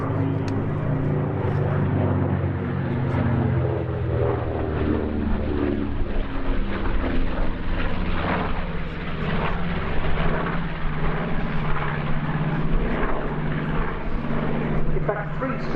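A B-25J Mitchell medium bomber flies at the Duxford airshow, its propeller engines giving a loud, steady, throbbing drone that holds throughout with little change in strength.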